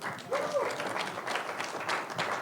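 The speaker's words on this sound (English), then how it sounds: "but you can clap if you want." Audience applause during a live cookware demonstration, a dense, steady patter of many hands clapping at moderate volume that holds through the whole moment.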